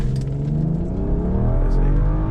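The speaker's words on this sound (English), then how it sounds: "we're gonna brake boost it just a little bit just to see if that helps" A BMW with an N55 engine and an aftermarket air intake revs hard while held on the brake for a boost launch, a loud, steady, close-up engine drone that climbs in pitch throughout.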